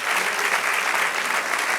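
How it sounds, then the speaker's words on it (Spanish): Church congregation applauding during a service, dense continuous clapping at close range that fills the short moment without pause. "Denle un aplauso al Señor."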